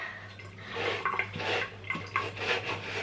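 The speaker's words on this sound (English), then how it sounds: "And now I need to put water on my head." Water is rubbed through a child's hair by hand at home in the morning, soft wet swishing and squelching in uneven bursts, close and fairly quiet, with no talking.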